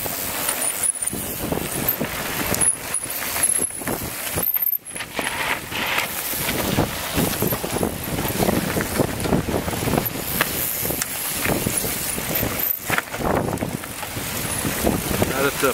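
Wind blowing outdoors at the start of a US Pro Cup men's elite cross-country bike race at Pulpit Rock, Colorado Springs, a steady gusty rumble buffeting the microphone, with a voice talking over it.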